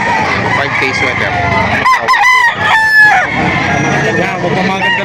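Roosters crowing and clucking at a livestock auction market in Padre Garcia, Batangas, with several loud, close crows and busy clucking over a crowded, noisy background.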